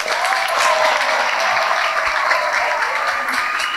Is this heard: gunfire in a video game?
no